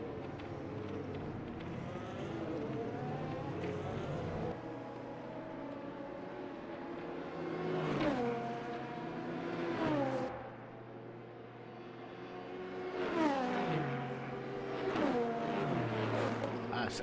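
Race cars lap a track in the video game Le Mans Ultimate, engines droning steadily with pitch rising and falling as they pass through gear changes, mid-distance and continuous. A commentator talks over them.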